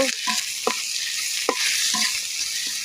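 Fish coated in turmeric is stirred in hot frying oil, a bright continuous sizzle with several sharp scraping strokes of a utensil against the pan at an uneven rhythm, close up and without talk.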